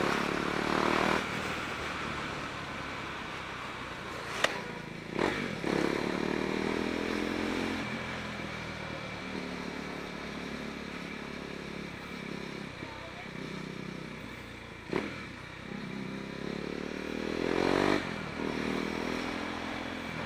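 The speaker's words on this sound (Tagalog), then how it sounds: "Ang ganda talaga ng motor na to." A motorcycle engine drones steadily while riding, rising and falling with throttle changes, plus a few sharp clicks and wind noise.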